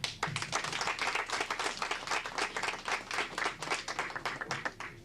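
An audience claps at a Saturday night event as a presenter is welcomed. The applause is close, dense and continuous, with many hands overlapping for the whole stretch.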